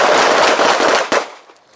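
Pistol gunfire during a group shooting drill with appendix-carried, red-dot-equipped handguns, many overlapping rapid shots from several shooters forming a loud dense volley that tapers off into a few final reports.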